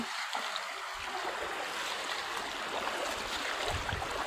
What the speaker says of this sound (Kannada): ಇವು ನಮ್ಮ ಹೊಲ್ದಾಗ ನೀರು ಬರಲ್ತಾವ ನೋಡ್ರಿ ಫ್ರೆಂಡ್ಸ್